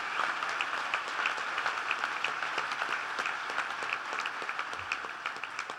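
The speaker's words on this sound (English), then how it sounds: "So please give Dick Durbin a big round of applause." Crowd applause for a senator at an Abraham Lincoln Bicentennial event in Springfield, where the President is speaking; a large audience claps steadily and densely, sustained for several seconds with crisp individual claps inside the roar.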